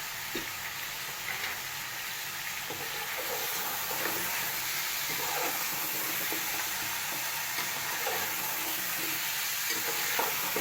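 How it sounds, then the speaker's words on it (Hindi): Beef for nihari, salted and frying in a pot, sizzles with a steady hiss while a spoon stirs it in intermittent scraping strokes, with no talking. "गोश्त को हम 5 मिनट तक फ्राई करेंगे ताकि हमारे गोश्त की अच्छी तरीके से खत्म हो जाए।"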